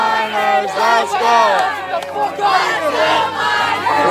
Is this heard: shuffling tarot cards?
no